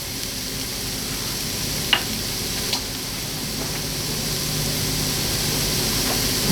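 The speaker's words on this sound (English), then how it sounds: "Okay, the onions are getting brown, the bay leaf goes in." Onions sizzle in a soup pot with bay leaf and thyme, a soft continuous frying hiss close by with a couple of small clicks and stirring knocks, no voices.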